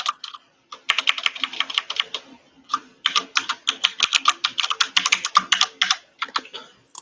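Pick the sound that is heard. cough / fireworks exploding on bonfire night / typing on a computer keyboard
typing on a computer keyboard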